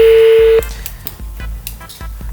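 A steady telephone tone holds briefly and cuts off, followed by a series of soft, irregular clicks like buttons being pressed.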